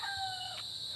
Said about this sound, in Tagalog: May mga manok man siya,